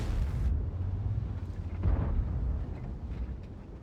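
A tank gun fires in a World of Tanks battle from an AMX M4 54 heavy tank, a single deep, muffled boom rising out of a steady low rumble of engine and battlefield noise.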